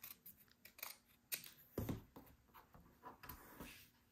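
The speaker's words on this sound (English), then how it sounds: "I need to cut this one" Scissors cut paper while an ephemera holder for a journal is made, a few close, quiet snips and rustles spread unevenly over a few seconds, with no speech.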